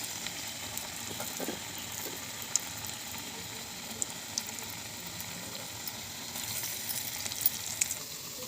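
Cabbage pakoras frying in hot oil, a steady bright sizzle with small pops and bubbling, close and alone without any voices.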